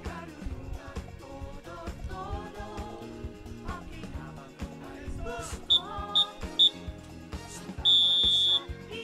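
An electronic starting horn at a swim meet sounds as a few short, shrill beeps followed by one longer sustained tone, heard over a busy, music-filled pool deck.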